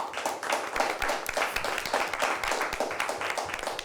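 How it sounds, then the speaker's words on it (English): A studio audience at a high school quiz bowl show claps for a team, a moderate, somewhat uneven round of individual hand claps heard clearly throughout. "A nice round of applause for them."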